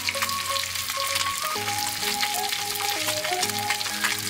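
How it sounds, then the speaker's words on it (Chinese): Fish pan-fries in hot oil with a loud, steady sizzle that fills the scene, stirring noises mixed in and no talk. "而是采用了煎炸的方法来烹饪鱼肉。"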